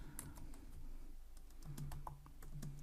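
Quiet, irregular clicks of a computer keyboard as code is typed in a programming tutorial, soft keystrokes scattered over a low room hum.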